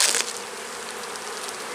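Honeybees in a full beehive, opened while searching for the queen, give a steady dense buzz with a brief louder burst at the start, close to the microphone and alone without talk.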